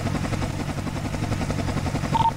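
Helicopter in the FiveM game during a police operation, a steady rotor thrum holding at an even level throughout, with dense low-frequency chopping and no talk.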